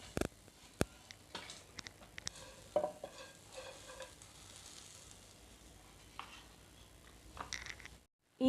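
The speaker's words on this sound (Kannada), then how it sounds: "ಈಗ ನಾವು ಕಟ್ ಮಾಡಿ ಇಟ್ಕೊಂಡಿರೋ ಮೆಣಸಿನ್ಕಾಯಿನ ಪ್ಯಾನಿಗೆ ಹಾಕೊಳ್ಳೋಣ" Cut green chillies go into a pan with soft, sparse crackles and a few sharp taps and clinks, quiet and close, with no voices.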